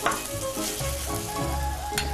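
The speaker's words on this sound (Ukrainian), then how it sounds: "Зараз будемо викладати на шковорідку млинчики. На печері. Вже олія нагрілася." Pumpkin pancakes fry in heated oil in a pan, a close, continuous hiss and crackle of sizzling with faint scraping, heard without talk.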